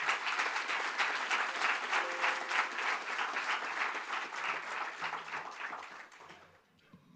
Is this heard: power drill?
no